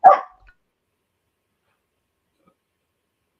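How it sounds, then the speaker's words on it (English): A single short dog bark sounds once, loud and close, at the start of an indoor call, then silence. "The dog seems to think it's great too."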